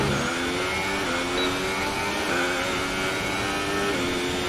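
F1 car engine in the F1 2018 racing game, revving high and stepping through gear shifts in a steady, continuous drone at close range with no one talking.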